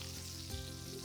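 Sausage sizzles and spits in hot grease in a pan, a steady crackling fry with a low hum beneath, no voices.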